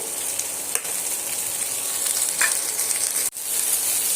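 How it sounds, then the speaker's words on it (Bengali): Yardlong beans and potatoes fry with spices in a wok, giving a loud, steady sizzle close up, with a couple of sharp clicks from stirring and a brief dip near the end. "কড়াইগুলো এইভাবে আরও মিনিট তিনেকের মতন ভাজা ভাজা করে নেব"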